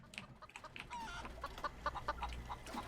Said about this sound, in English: I hear my chickens from Fallout 76